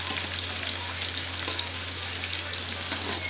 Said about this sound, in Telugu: ఇది కూడా మంచిగా ఫ్రై అవ్వాలి.